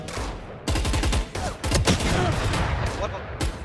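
Bursts of gunfire shooting through a wall in the tactical shooter Valorant, several sharp shots and rapid volleys in quick succession, loud and close, with game voice and a speaking player mixed underneath.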